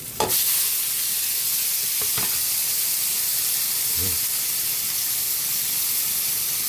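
Chopped tomatoes go into a hot frying pan and are stirred, a loud, constant sizzle and hiss with a few scraping stirs of the spoon; a voice speaks briefly under it.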